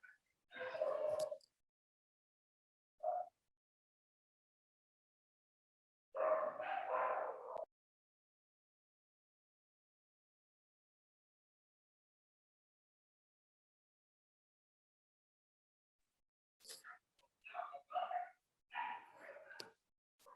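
Several dogs bark in short, sharp bursts separated by long silences, a quick volley at the start, a lone yip, another burst, then a cluster of barks near the end, somewhat distant and muffled.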